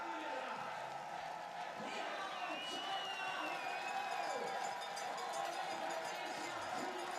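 Spectators at a biathlon mixed relay stadium in Ostersund, Sweden, cheer in a steady, distant wash of crowd noise with scattered clapping and a faint ringing cowbell, while a commentator talks over it.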